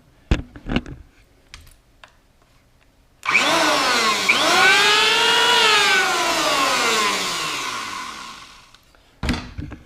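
Following a few clicks and knocks, a belt sander for sanding an SG guitar body roars to life with a loud whirring motor that gradually winds down, then more clacks.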